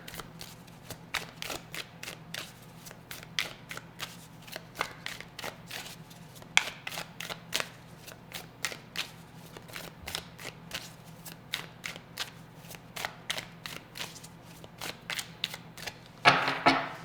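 A tarot deck is shuffled at close range in quick, crisp bursts of riffling card clicks for the whole stretch, with a slightly louder flurry at the end.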